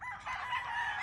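A game fowl rooster at a game farm lets out a single close, loud crow that lasts about a second.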